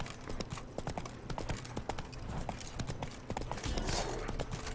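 Horse hooves clip-clopping along a path in the video game The Witcher 3, a brisk irregular run of close hoof strikes over a low background bed.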